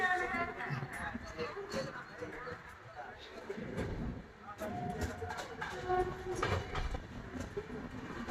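The SMVT Bengaluru SF Express, train 12863, rumbles steadily after pulling out of Krishnarajapuram station, heard from inside a carriage with continuous rolling noise and occasional clacks.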